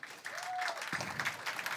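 Audience applause at a school green-campaign closing event held in Telia's headquarters, a steady wash of clapping from a crowd that continues throughout, moderately loud and fairly even.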